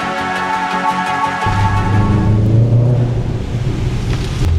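A Subaru WRX engine revs hard, its pitch dropping into a loud, boomy rumble that echoes inside a tunnel.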